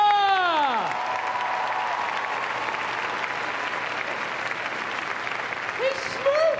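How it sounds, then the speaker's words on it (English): Arena audience applause at the Crufts dog show, a broad, steady wash of clapping that fills the hall for several seconds, with a few raised voices cutting through near the start and again toward the end. "Please give a big round of applause"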